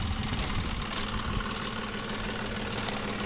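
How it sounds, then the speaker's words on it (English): A non-diesel tractor engine idles with a sloppy timing chain, giving a steady, loud mechanical rumble with an even, continuous drone and no pauses, heard close up with no voices. "my tractor is not a diesel. Timing chain is sloppy."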